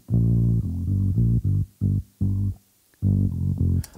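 A sung vocal bass line pitch-shifted an octave down in Logic, with deep, throbbing, choppy notes in a rhythmic pattern separated by short gaps, heard alone and fairly loud.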